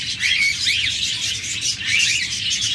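Pet budgerigars, cockatiels and lovebirds kept for sale chatter and squawk together in a steady, bright flock of calls, moderately close and with no talk.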